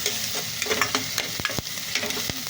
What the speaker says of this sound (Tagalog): Luluto na ako ng sauce ng wings. Sili, sibuyas, bawang.